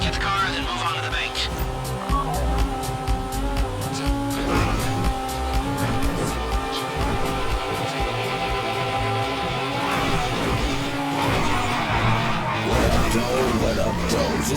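A car drives in GTA with a continuous engine drone and tire squeals, steady and loud throughout, with game music and effects layered underneath.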